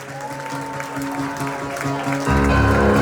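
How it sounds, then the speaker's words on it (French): Audience applause for a couple at a celebration, a dense burst of clapping from a room full of people over music, swelling louder near the end. "je sollicite de vous un max d'applaudissements pour le couple ici présent"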